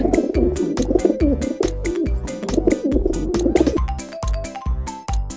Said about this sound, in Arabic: طير الطير